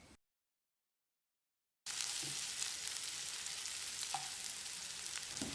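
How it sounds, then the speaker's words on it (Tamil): Small onions sauté in a hot pan for raw banana masala curry, a steady, close, continuous sizzle of frying with faint stirring, starting after a short silent gap. "வெங்காயத்தை நல்லா பொன்னிறமாக வதக்கணும்"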